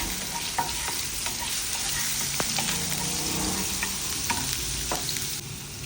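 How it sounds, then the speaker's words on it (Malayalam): Chopped ginger sizzles in hot oil in a pan, a steady close crackle broken by occasional stirring clicks and scrapes. "എണ്ണ ചൂടായി വരുമ്പോൾ ആദ്യം ഇഞ്ചി നമ്മൾ മൂപ്പിച്ചെടുക്കും"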